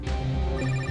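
A telephone rings steadily and fairly loudly for under a second, a continuous electronic ring with no talk over it, heard while waiting in a parked car at Eastern Beach.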